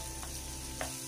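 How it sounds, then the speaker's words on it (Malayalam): Chopped capsicum and carrot sauté in a pan for restaurant-style fried rice, giving a soft, steady sizzle. A low electrical hum runs underneath, and two brief stirring scrapes come through. "നമ്മുടെ ഈ ഒരു ക്യാപ്സിക്കം, ക്യാരറ്റ് ഇതൊക്കെ ഒന്ന് വെന്ത് കിട്ടുന്നത് വരെ ഒന്ന് വഴറ്റി കൊടുക്കണം."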